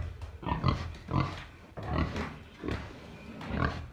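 Mangalica pigs and young female Vietnamese pot-bellied pigs grunt close by in a pen, giving about five low, rough grunts in an uneven rhythm, moderately loud and without talk.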